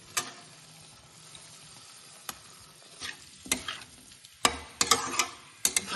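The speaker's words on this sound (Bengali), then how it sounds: "এবারে আমি এই ভেজে রাখা পনির আর ফুলকপিগুলো দিয়ে দেবো" Fried paneer and cauliflower pieces drop into hot masala that has released its oil, giving a low simmering sizzle broken by sharp clattering scrapes and stirs that grow busier toward the end.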